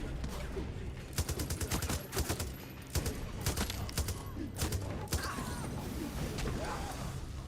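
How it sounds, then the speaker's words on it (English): Light machine gun in Far Cry 6's Vaas DLC, fired in repeated quick bursts of sharp, rattling shots with short gaps between them, fairly close and loud, over a low background din and no clear talking. "I think it's time for the LMG"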